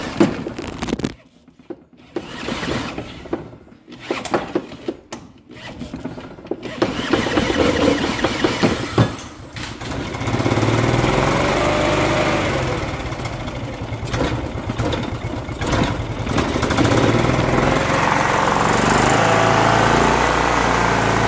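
A Kawasaki FE290 engine in a Club Car golf cart cranks with uneven mechanical clatter and sputters, then catches and runs at a steady, buzzy, close, loud idle for the second half.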